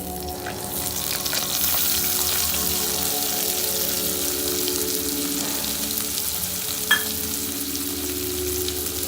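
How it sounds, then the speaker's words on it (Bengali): Chopped onion with cumin hitting hot leftover oil in a pan, producing a loud, continuous sizzle throughout with one brief utensil clink near the end. "যে বাকি তেলটা আছে সেই তেলেই আমি দিয়ে দিচ্ছি সামান্য পরিমাণে জিরে দেখা যাচ্ছে এবার দিয়ে দেবো কুচিয়ে রাখা একটা গোটা পেঁয়াজ"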